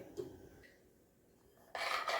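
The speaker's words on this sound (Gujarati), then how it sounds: "અહીંયા મીઠું ગરમ થાય એમાં વચ્ચે વચ્ચે આ રીતે તવેથી ફેરવતા જવાનું" A spatula scrapes and rubs through salt heating in a pan, making soft rasping strokes that stay quiet at first and then grow into a louder, brighter scraping burst at the end.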